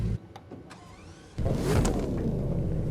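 A Bugatti engine starting in The Crew 2 racing game: after a brief mechanical whir and clicks, the engine catches with a sudden loud rumble that settles into a steady, strong idle.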